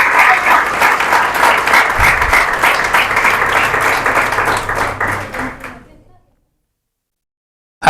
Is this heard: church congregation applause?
yes